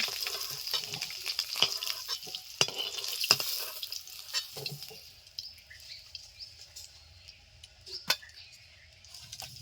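Broad beans frying in oil in a pan while eggs and young jackfruit are being cooked, giving a soft steady sizzle with scattered stirring clatters and spoon taps, fading quieter toward the end.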